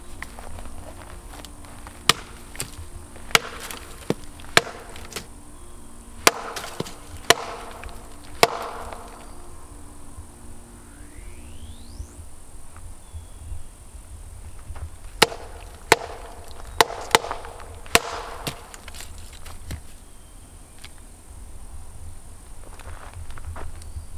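A stick is knocked against wood outdoors in the forest as a Bigfoot call: several sharp, loud single and paired knocks spaced apart, with crickets and insects droning faintly under them; no talking.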